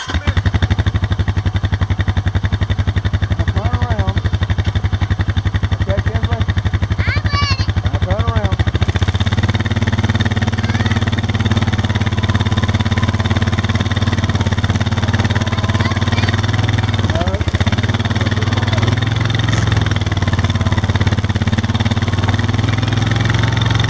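A 2014 Honda Foreman 4x4 ATV engine cranks and starts in the snow, then runs with a loud, steady idle that fills the whole clip, with faint voices in the background.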